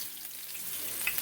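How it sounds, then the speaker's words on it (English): Steady, bright sizzling of deer steaks frying with onion in a hot skillet, close and continuous, with a couple of sharper pops near the end. "You hear that sizzle?"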